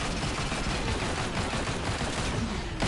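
Dense, continuous gunfire from guns in Marvel Heroes Omega, a loud unbroken barrage of rapid shots that keeps the same intensity throughout.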